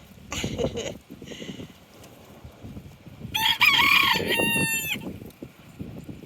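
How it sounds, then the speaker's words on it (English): Chickens cluck softly amid scratchy background noise, then a rooster crows loudly in the middle before the clucking carries on. "The chickens are starting to get bold."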